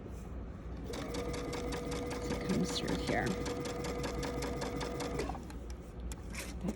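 A sewing machine stitches a pajama pants seam in a rapid, steady mechanical rattle that starts up, runs for several seconds nearby and stops, while a person speaks briefly over it.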